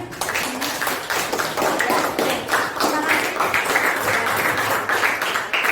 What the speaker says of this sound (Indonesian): kita tepuk tangan dulu untuk semuanya